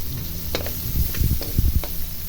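Garlic and onions sizzle in a hot pan, with a steady frying hiss broken up by the clack and scrape of stirring, close and moderately loud, and no talking.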